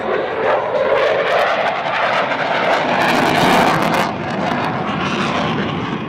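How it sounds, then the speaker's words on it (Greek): A Saab Gripen jet fighter approaches at an airshow, its engine a loud, sustained roar that swells to a peak near the middle and then eases slightly, with no voices over it. "Βλέπουμε το Gripen να μας προσεγγίζει."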